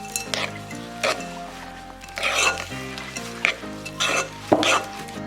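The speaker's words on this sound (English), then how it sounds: "Now I'm just gonna get a spoon and start mixing this up" Spoon stirring homemade energy-bite snack ingredients in a bowl, with soft repeated scraping and clinking strokes that come in uneven bursts, close and moderately loud, with faint background hum.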